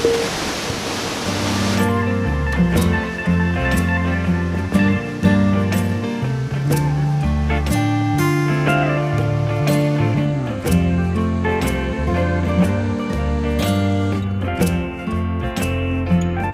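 The Katasa twin waterfall at Turunan Buhit, two neighbouring streams of water falling into the pool below, gives a steady, loud, full-bodied roar that runs unbroken for the whole clip after a brief different noise at the very start.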